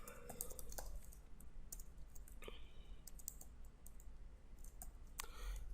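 Quiet clicking of keys on a computer keyboard while someone types code, scattered light taps with uneven spacing under a steady low background hiss.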